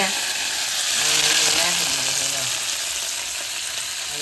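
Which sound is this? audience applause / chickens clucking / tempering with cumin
tempering with cumin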